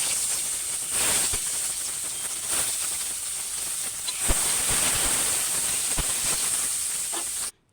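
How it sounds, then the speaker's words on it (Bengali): Onion, garlic and slit green chili fry in oil in a hot pan on a gas stove, a steady loud sizzling hiss lasting throughout with small crackles and no talk. "তেলের উপরে পেঁয়াজ, রসুন কুচি আর কাঁচা লঙ্কা চেরা দিয়ে হালকা করে ভেজে নিয়েছি"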